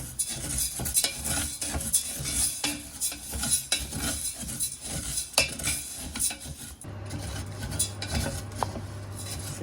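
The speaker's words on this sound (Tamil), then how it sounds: "வறுத்து கொண்டிருக்கிறோம் கொஞ்சம் கொஞ்சமாக நிறம் மாறிக்கொண்டு வருகிறது" Coconut shell pieces are stirred and roasted in a pan until they turn black, with a utensil scraping and clattering against the metal in a busy, close rhythm and a faint sizzle underneath.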